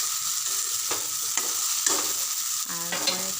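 Taro (elephant-foot type, bishkochu) simmering and being stirred in a pan with spices as its water cooks off, steady sizzle with several scraping stir strokes close by, no talk.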